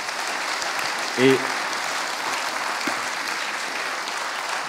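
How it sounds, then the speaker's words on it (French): An audience at a French conference on critical thinking and social sciences gives sustained applause, a steady broadband wash of clapping, with a brief spoken word cutting in near the start. "merci à tous les quatre, on vous applaudit."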